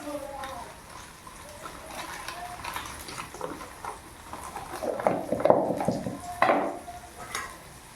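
Onions and spices, including garam masala and biryani masala, stirred in a hot cooking pot with oil, with soft sizzling and scraping, louder clanks of the spoon toward the end, and a voice talking over it.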